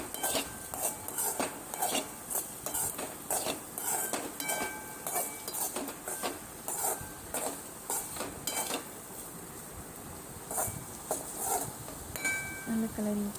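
French fries in a pan with salt, pepper and turmeric, stirred with a metal utensil that clinks and scrapes in rapid repeated strokes against the pan, under a soft sizzle.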